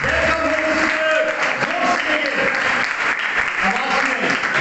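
A congregation at a Pentecost church service claps and shouts together in welcome, steady loud applause mixed with overlapping crowd voices and cries for the whole stretch.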